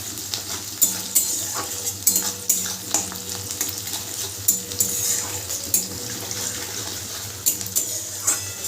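Onions fry in a pan for a chicken curry, browning as they are stirred, with a constant sizzle broken by regular scraping and knocking of a spoon, close by.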